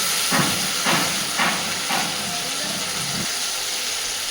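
Onions and tomatoes frying in a pan for a potato-eggplant fish curry, a loud, steady hiss of oil close by with a few soft rhythmic stirring pulses early on, no voices.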